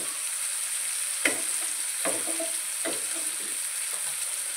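Ground spices frying in a pan while cooking palak paneer, a steady close sizzle broken by a few brief scraping stirs, no voices.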